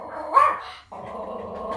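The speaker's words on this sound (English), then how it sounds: "Oh, that is Binky barking in your right here." A dog barks once, sharply, near the start, followed by a steady droning hum that continues to the end.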